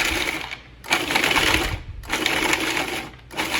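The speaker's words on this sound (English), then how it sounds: "Then we're going to give it a good couple of pulses in the food processor." A food processor pulses a mix of peppers, tomato and breadcrumbs, its motor whirring in two long bursts split by short pauses, loud and close.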